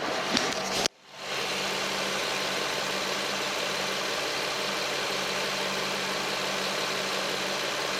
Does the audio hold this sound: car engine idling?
yes